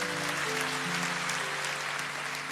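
A church congregation at a morning devotion claps in a soft, continuous wash under sustained music tones, distant and even throughout.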